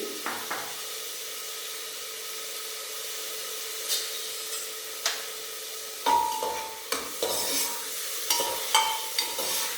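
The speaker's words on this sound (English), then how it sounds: "give it a stir nicely" Tomato, ginger and chilli with onion being stirred in a hot pan for Mysore bonda, a steady frying hiss with intermittent spoon scrapes and clatters that grow busier toward the end.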